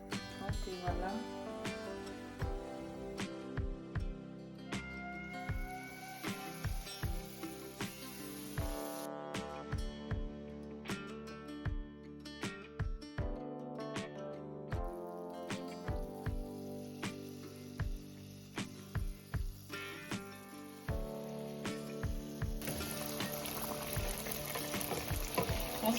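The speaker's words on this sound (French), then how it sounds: "lorsque l'huile est bien chaude, nous allons commencer à frire nos beignets" Beignets frying in hot oil, a steady low sizzle and crackle running throughout with small pops and occasional stirring or clinking sounds, fairly quiet and close.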